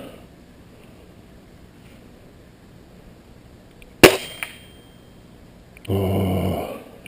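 An airgun fires once at a stick target about ten feet away outdoors, a sharp single crack near the middle, followed by a brief rushing noise over quiet background.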